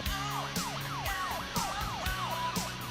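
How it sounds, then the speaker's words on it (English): Police sirens wail continuously, several overlapping yelping sweeps repeating in a steady rhythm, loud and close with traffic rumble beneath. "Outside of the venue, numerous police cars begin to arrive"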